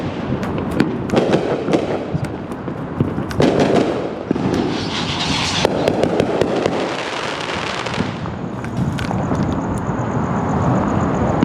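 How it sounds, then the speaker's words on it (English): Fourth of July fireworks boom and crackle continuously, seen and heard from a motel parking lot along Beach Boulevard in Orange County, with dense overlapping bursts and sharp pops throughout. "Lots of fireworks visible from the parking lot"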